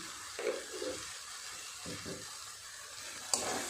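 Spices for a sweetish cauliflower vegetable curry frying in a pan, a faint soft sizzle with a few brief stirring scrapes and one sharp metallic tap near the end.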